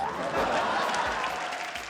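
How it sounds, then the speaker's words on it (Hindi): An audience at a televised dance competition applauds a dance director, giving a brief, dense burst of clapping that fills the room at a steady level. "इस महान नृत्य निर्देशक के लिए पुरजोर तालियां होनी चाहिए"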